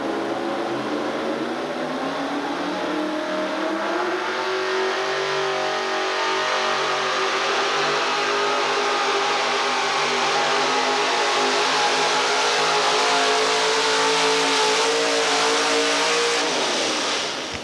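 A modified truck engine revs hard and steadily during an outlaw truck pull at Murray, Kentucky in 1987, a loud, continuous high-RPM roar holding strong for the whole stretch before cutting off abruptly at the end.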